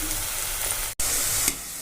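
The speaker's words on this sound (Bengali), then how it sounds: "এই যে আমাদের এরমভাবে এরমভাবে ডিপ ফ্রাই করে নেবেন আপনারা" Spiral-cut potatoes deep fry in hot oil, giving a steady close bubbling sizzle with brief louder crackles and a short break in the middle.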